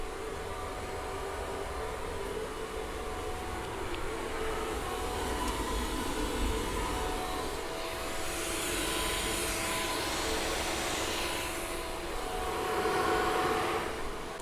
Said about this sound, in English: we do have quite a bit of fan sound, but no stepper sound at all